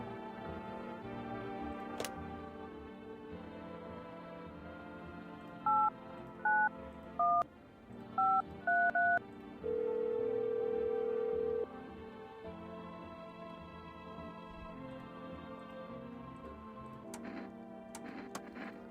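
Telephone dialing in the video game No, I'm Not a Human, a short series of distinct keypad tones followed by one longer steady tone, clear and close over a quiet background hum.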